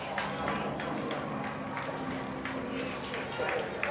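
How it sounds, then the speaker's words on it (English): A large crowd gathered outside Balmoral cheers and claps as the royal car arrives, a steady roar of voices and patters, with a voice speaking over it. "Cheers from the crowd."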